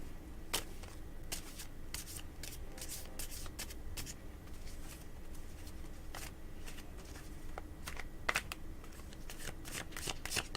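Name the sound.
shuffling a deck of psychic reading cards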